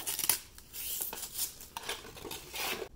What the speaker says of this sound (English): If I can get the tape off.